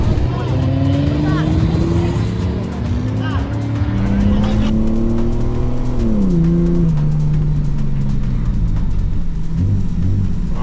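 A budget V8 supercar, Holden or Ford, revs hard out on a race track, its engine note climbing and falling through gear changes, loud and close with steady mechanical roar and faint tyre noise.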